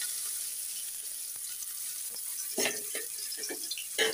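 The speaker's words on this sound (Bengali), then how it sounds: "তেল অলরেডি দিয়ে দিয়েছি, পেঁয়াজ আর রসুন দিয়ে দিলাম" Onion and garlic hit hot oil in a pan, giving a steady hiss with a few sharper crackles and spatters toward the end, fairly close, with no voices.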